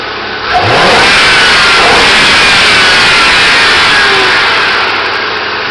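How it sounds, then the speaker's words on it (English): 2006 Ford Crown Victoria Police Interceptor with a stock 4.6-liter V8 rising quickly from idle into a loud, sustained rev that holds for several seconds before easing off, close up and with no talk. "rev it here."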